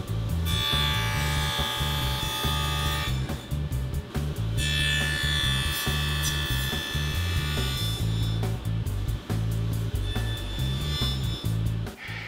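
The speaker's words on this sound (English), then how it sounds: "I have to do this in two passes because my stack dado set isn't wide enough to get the entire width of the piece" A stacked dado set on a saw cuts a half-lap joint in wood for a headphone stand, making a loud, steady high-pitched whine with a dense grinding rasp that rises and falls through several passes.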